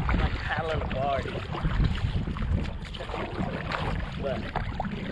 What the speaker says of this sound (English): I'm like paddling a barge